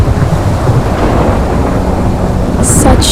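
Thunderstorm with steady heavy rain and rumbling thunder in a cutscene from the video game Identity V, a dense roar filling the whole stretch with a brighter burst near the end.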